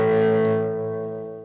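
A Telecaster electric guitar played through a compressor pedal rings out as a single sustained chord with a bright pick attack, then decays evenly and smoothly with long, even sustain, close and clean with no voices.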